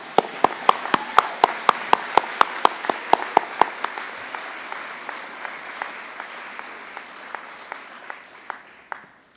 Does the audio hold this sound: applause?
yes